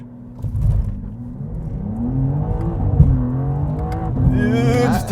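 A car launches hard with traction control fully off on summer performance tires. The engine is loud and close, revving and climbing in pitch across the whole run, with a brief voice heard faintly.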